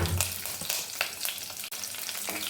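Dried red chillies, curry leaves and garlic fry in a hot pan with a busy crackling sizzle and sharp spitting pops, close and fairly loud, with one abrupt break in the sound near the end.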